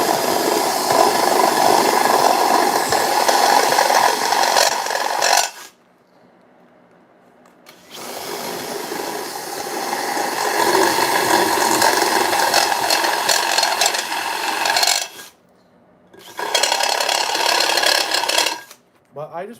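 A hand drill with a step bit bores holes in three separate bursts of whirring, rattling grind, each lasting several seconds and separated by short silent pauses, close up with no talk.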